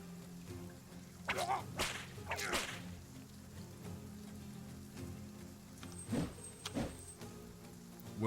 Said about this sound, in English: Whip doing work.